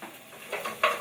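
Edamame tossed back into a hot pan with garlic, giving a short sizzle and a clatter of stirring that swells near the end, close and fairly quiet.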